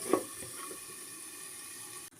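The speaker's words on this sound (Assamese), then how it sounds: "ইয়াত মই অকণমান গৰম পানী দিছোঁ" Hot water poured into a potato and cabbage curry cooking in a pan, a short splash and hiss at the start that settles into a steady sizzling bubble, close and alone until it cuts off.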